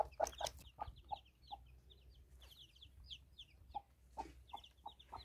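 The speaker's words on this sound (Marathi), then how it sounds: "हे पहा आपली बाळ छोटे छोटे. हे पहा कोंबडी का." Hen with small chicks in a farm pen, giving repeated soft clucks through a steady run of high, thin peeping chirps, close by with low background rumble and no talking.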